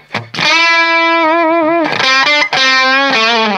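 Distorted electric guitar played through a 1985 Hughes & Kettner Crunch Master preamp on its overdrive channel, sustaining loud, thick chords with wavering vibrato, a brief restrike midway, alone and up close.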